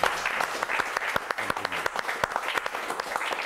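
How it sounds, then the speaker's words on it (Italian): Studio audience on a local Mantova football talk show giving a short round of applause, sparse and uneven claps fairly close and moderately quiet, with no talk over them. "Un applauso."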